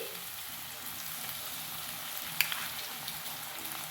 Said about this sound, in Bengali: এবার আদা রসুনটা দিয়ে দিচ্ছি।